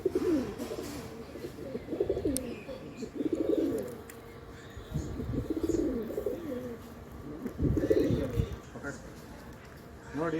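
Pigeons in a pigeon loft coo in repeated low, throaty bursts at close range, with someone talking over and between the calls.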